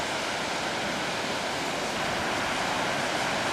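Ocean waves breaking at San Onofre Beach in California, a dense continuous roaring wash of surf, steady and loud with no talk.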